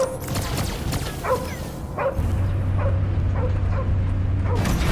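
Cosmo the dog from Guardians of the Galaxy gives a string of yipping barks and whimpers, about five or six short calls at a steady pace amid game background sound and a low hum.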